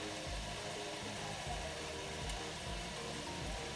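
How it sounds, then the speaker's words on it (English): Air fryer running with bacon inside, heard as a constant low fan hum and rumble, steady and unbroken, with no talking. "Sorry for the fan noise."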